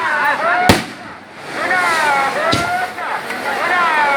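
Firecrackers crack at a crowded temple festival worship, two loud sharp bangs and a fainter third pop spaced a couple of seconds apart, over continuous festive crowd noise and chanting voices.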